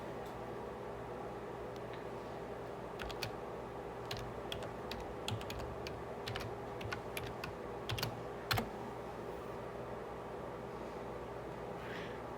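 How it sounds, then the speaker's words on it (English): Scattered keyboard taps as a password is typed on a computer, sparse quiet clicks in small clusters over a steady low room hum, no talking. "All right, let me make sure I type it in right."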